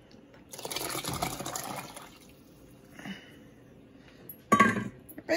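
Ground paste and tamarind water are poured into a pot of rasam: a soft, close liquid splashing and trickling in two short bursts, with a brief louder splash near the end.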